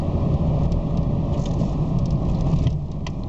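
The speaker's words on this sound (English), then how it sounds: "I'll go ahead and hit the brakes" A car slowing under braking while new brakes are bedded in, heard from inside the cabin as a steady loud road rumble and engine drone, with faint rattles and no distinct squeal.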